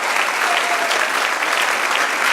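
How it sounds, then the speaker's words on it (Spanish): A church congregation claps together in a steady, loud round of applause lasting a couple of seconds, with no voices standing out. "Den un aplauso a Dios."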